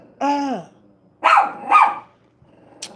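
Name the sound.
dog barking and growling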